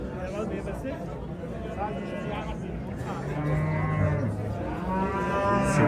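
Cattle moo repeatedly at a livestock market in Angren, with long, drawn-out calls over the constant chatter of a busy crowd.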